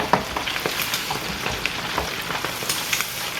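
Shrimp for po'boys frying in hot grease, a loud, close, busy sizzle with frequent crackling pops.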